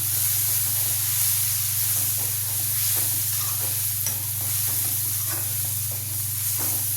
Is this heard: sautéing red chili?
yes